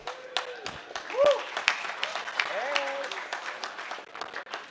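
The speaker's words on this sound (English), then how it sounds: "Round of applause" An audience at a cultivation event in Las Vegas gives a brief round of applause, with scattered claps and crowd noise mixed with a voice speaking over it.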